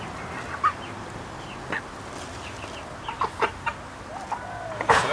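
Backyard chickens cluck in short, scattered bursts at moderate distance over a quiet outdoor background, with a louder cluck near the end.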